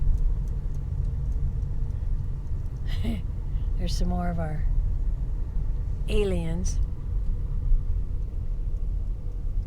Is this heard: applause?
no